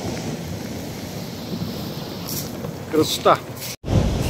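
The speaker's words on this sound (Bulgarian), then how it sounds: "И ето вълни разбиват се." Waves break on a beach in light rain, a steady broad wash of surf mixed with wind buffeting the microphone, with a single brief spoken exclamation near the end.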